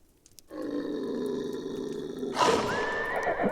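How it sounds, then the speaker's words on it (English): Horses spooked by a wolverine let out a sustained, loud neigh that swells into a sharp, shrill whinny near the end, part of the werewolf-themed game Sang Froid. "Sounds like a wolverine's outside spooking our horses."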